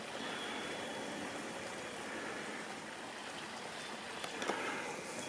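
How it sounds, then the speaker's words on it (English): Small waterfall on a clear stream along a hiking trail, a steady broadband rush of falling water held at an even level throughout, with a brief louder splash near the end. "There's the little waterfall."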